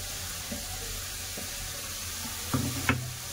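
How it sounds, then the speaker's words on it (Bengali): Onion and chicken frying together in a pan, a soft continuous sizzle with a few faint clinks and stirring scrapes near the end. "পেঁয়াজের সাথে খুব ভালো করে আগে ভেজে দেবো"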